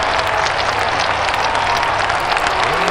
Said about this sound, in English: here's a round of applause for Julia Syi